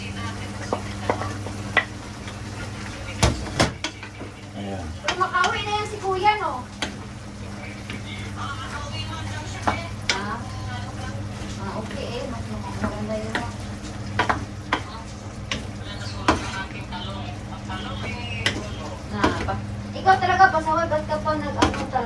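Beef with carrots and garlic stalks frying in a pan, steady sizzling with stirring scrapes and clinks, close by, while people talk over it.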